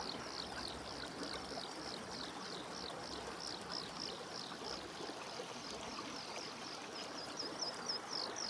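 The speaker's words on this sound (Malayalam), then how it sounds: "നല്ലൊരു അരുവി" A stream in Bhutan's Phobjikha valley rushes in a steady, unbroken wash of flowing water, with birds chirping repeatedly above it throughout.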